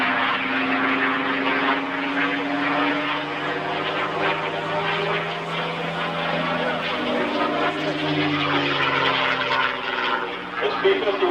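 Propeller-driven P-51D Mustang fighter engine droning steadily and loudly throughout, with narration running over the aircraft noise.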